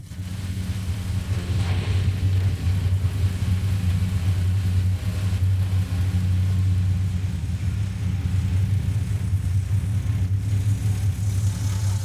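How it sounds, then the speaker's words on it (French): Several old car engines, including a Citroën Berlingo, run together in a deep, steady idling rumble, a continuous low throb close by with no voices over it. "Regarde, Lucio va aussi démarrer la Citroën Berlingo 4."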